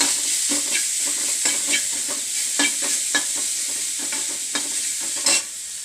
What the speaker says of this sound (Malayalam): ഇനി നമുക്ക് ആ എണ്ണയ്ക്കകത്തോട്ട് ഒരു സവാള അരിഞ്ഞ് വെച്ചത് ഇട്ടേക്കാം